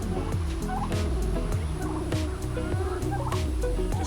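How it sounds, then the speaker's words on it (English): Turkeys in a farm pen gobble loudly and repeatedly, with several birds' rapid warbling calls overlapping in close, continuous bursts. "You don't like those turkeys, Fergie?"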